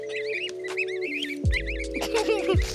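Geese on a village farm in July give nasal honks and chattering calls over a low hum, close and moderately loud in a short burst.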